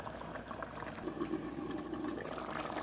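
Jamaican brown stew chicken simmering in a covered pot, a soft, low bubbling and gentle watery gurgle that stays quiet and steady throughout, with no voices.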